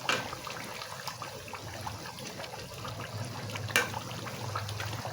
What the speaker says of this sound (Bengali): মাছটা সুন্দর মতন ফুটতেছে, আর একটু জলটা শুকিয়ে গেলে তারপরে নামাইয়া ফেলাম।